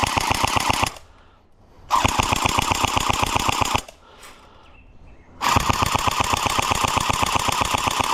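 Airsoft submachine gun with electric blowback firing full auto from a drum magazine, three long rapid-fire bursts of sharp mechanical clatter with short pauses between them, loud and close, with no talking.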